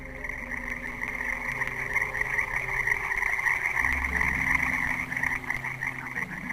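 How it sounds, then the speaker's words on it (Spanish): Many frogs croak together in a dense, continuous chorus, steady and fairly loud, with layered rhythmic calls overlapping throughout. "ahora hervían de enormes ranas viscosas que croaban aguda e incesantemente"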